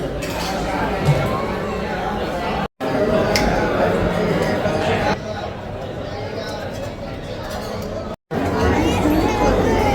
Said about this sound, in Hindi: यहाँ तो चारों तरफ बहुत ही भीड़ ही भीड़ है।